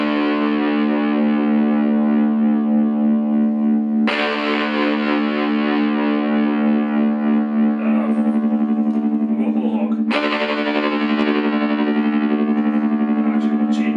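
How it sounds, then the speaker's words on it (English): An electric guitar plays through a tremolo pedal with distortion. Sustained chords ring loud and wavering, and new strums hit sharply twice, with the notes pulsing gently as they fade. "we're going to put the intensity up and the rate up a little bit so we get a kind of pulsing sound"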